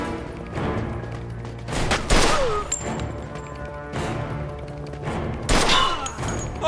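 Gunfire in the Mafia II video game: several sharp shot bursts and crashing impacts over a busy, moderately quiet background, with brief clusters of rapid fire spaced a few seconds apart.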